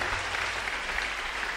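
A congregation claps steadily through a Sunday church service, the applause dense and sustained from start to finish with no voices standing out.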